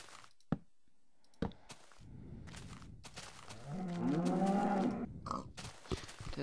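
Minecraft cows, including a baby cow, let out a low, rising moo after a couple of sharp clicks, the call close and fairly loud, with no voices.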